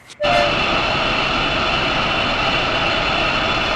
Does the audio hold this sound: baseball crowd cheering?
no